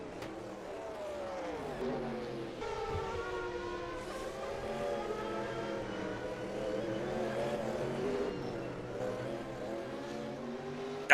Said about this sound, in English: So these Mazdas are going to go side by side down the home straight